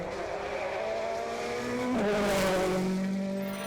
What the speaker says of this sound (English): The former champions were pushing hard in their similar spec Tom Gahan prepared Fiesta WRC